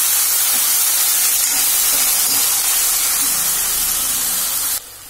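Shallots, green chilies and curry leaves sizzling in hot oil inside a pressure cooker for a quail gravy, a loud, steady hiss filling the whole clip with no talk.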